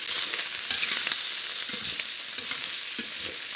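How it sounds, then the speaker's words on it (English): Hot Italian sausages frying in olive oil to brown the outsides, a steady close sizzle with occasional louder pops and light stirring clatter, no talking. "I'm going to put these in and I'm going to fry them off, brown the outsides"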